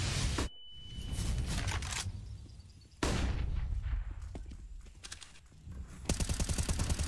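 Rapid automatic gunfire and single sharp shots from a Counter-Strike professional match crack in loud bursts, separated by brief quiet gaps, with a final fast volley at the end.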